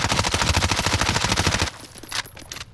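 Rapid automatic video game weapon fire during a recoil demonstration, a dense loud burst of evenly spaced shots that cuts off after about a second and a half, leaving faint scattered clicks.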